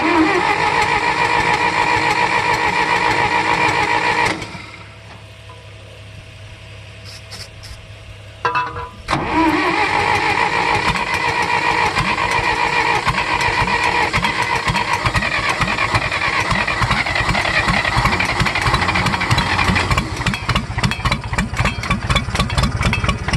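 A John Deere engine on a cold start runs loud and close, cuts out for a few seconds, then catches again and settles into a steady, rough idle.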